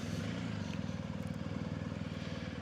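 A motorcycle engine runs steadily close by during a ride, its low rhythmic pulsing and clattering continuous and loud throughout, with no talking.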